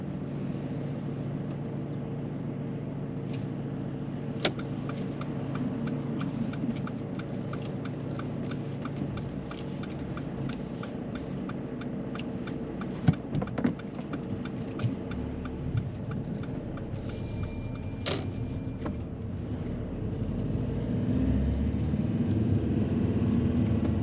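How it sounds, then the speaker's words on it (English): A car pulls away during a mock driving test, heard from inside the cabin as a steady low engine hum with a regular indicator ticking and faint clicks, the engine swelling slightly near the end. "Drive off when you're ready."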